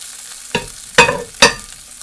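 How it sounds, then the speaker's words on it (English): Large naan bread frying in a hot pan on a home stove, heard as three short sizzling bursts spaced about half a second apart over near silence. "And let it fry on this side"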